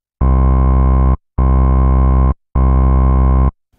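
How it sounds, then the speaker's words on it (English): Three loud, sustained Sylenth1 synth bass notes with brief pauses between them, gritty and slightly distorted by a driven low-pass filter, with the bright upper tones muffled away. "which will add some distortion whilst rolling off the top end"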